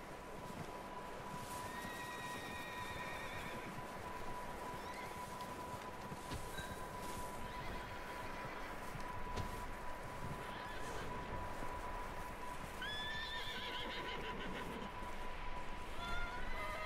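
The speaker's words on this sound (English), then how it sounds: "There's a horse in here." A horse neighs inside a barn in the video game Red Dead Redemption 2, with whinnies rising over steady game ambience and a constant background tone, plus some speech.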